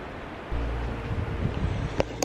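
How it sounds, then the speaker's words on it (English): Electric fans whir steadily in the background of a condo, a broad constant rushing hum that stays fairly loud throughout, with a couple of faint clicks near the end. "my apologies if you can hear the fans in the background"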